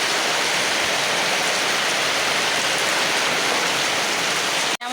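Heavy rain pouring down steadily on a road, a dense, loud, unbroken hiss filling the whole stretch with no pauses.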